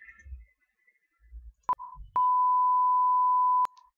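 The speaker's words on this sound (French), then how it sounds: "on va ajouter une tonalité audio" A steady electronic test tone generated in the Shotcut video editor, sounding as a loud continuous beep for about a second and a half after a couple of short bleeps, alone with no talk.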